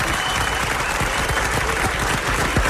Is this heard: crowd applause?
yes